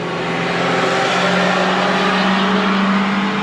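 A vehicle passes close by on a road near Hasanur, its loud, steady engine and tyre roar filling the whole stretch without a break while others wait.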